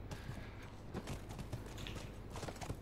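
Horse hooves clip-clop in a steady, moderately close rhythm across the whole stretch in The Last of Us Remastered, with faint background noise.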